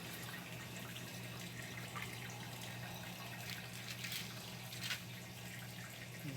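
Water draining from a Brastemp BWK 11 washing machine with a faulty linear pressure switch, a faint steady trickle and gurgle over a low hum, with a few small splashes.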